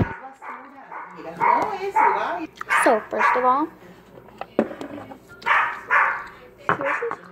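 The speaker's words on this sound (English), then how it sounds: "sorry for my dog and sorry for the background noises too." A household dog barks and yips repeatedly in short bursts close by, mixed with a person talking in a home kitchen.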